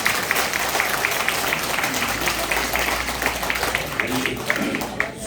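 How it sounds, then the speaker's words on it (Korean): Steady applause from party members at a political party meeting, a full room of many hands clapping continuously at moderate volume, with a faint murmur of voices underneath. "우리 후보님께 큰 박수 한번 부탁드리겠습니다"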